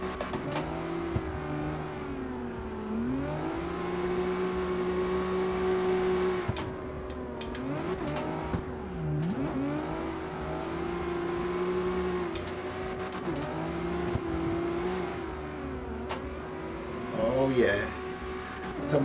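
A car drifting in the CarX Street racing game, its engine droning and revving up and down through several slides, with tyre squeal near the end, continuous and moderately loud; someone talks over parts of it.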